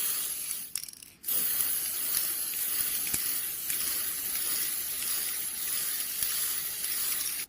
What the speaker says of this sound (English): I'll be painting it with a Tommy spray can in white